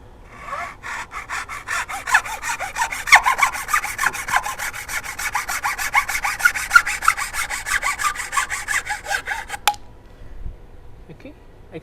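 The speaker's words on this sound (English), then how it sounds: "I'm just going to do a little cross cut here with the saw." Hand saw cross-cutting wood held in a stump vise, a fast steady run of close back-and-forth rasping strokes for about ten seconds before stopping abruptly.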